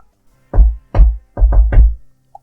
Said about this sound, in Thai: เดี๋ยวก็ได้ยินเสียงเคาะประตูเป็นจังหวะ